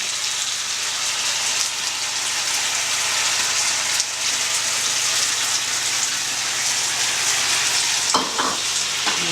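Tomatoes frying in a hot pan for a lobster sauce, a dense, even crackling sizzle like steady rain that runs for several seconds, with a couple of sharper utensil knocks near the end.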